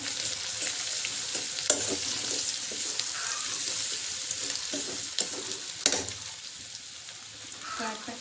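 Onions sizzle in a pan with freshly grated ginger and garlic, a steady broadband frying hiss with occasional stirring scrapes and clinks, close and moderately loud.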